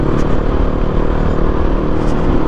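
A motorcycle runs at full throttle along a narrow, bumpy road, its engine a loud, continuous low rumble with rattling clatter throughout and no voices.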